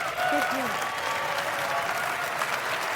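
Steady, dense audience applause at a spoken-word poetry talk, filling the whole stretch at an even, sustained level, with a brief voice-like tone rising near the start.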